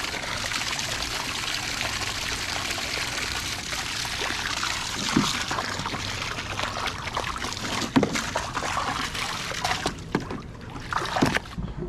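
Cold water rushes and trickles through the plumbing of a newly installed AO Smith 50-gallon water heater, a steady flowing hiss with occasional knocks and clunks.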